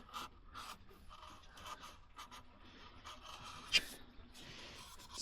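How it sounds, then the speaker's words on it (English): Fine Scotch-Brite pad scrubbing gunk off a lower radiator hose fitting on a BMW E46 cooling system, a soft continuous scratchy rubbing at close range with one brief sharper scrape near the end, no talking. "take a piece of nice and fine Scotch-Brite"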